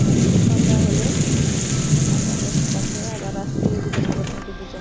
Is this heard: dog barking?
no